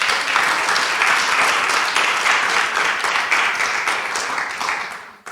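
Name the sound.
congregation applauding in church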